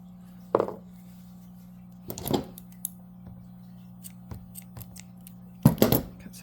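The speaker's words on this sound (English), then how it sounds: "Cut some of the tail off." Scissors snip the yarn tail of a crocheted puzzle ball: three separate close, sharp cuts spaced a few seconds apart, with small handling clicks between them over a low steady hum.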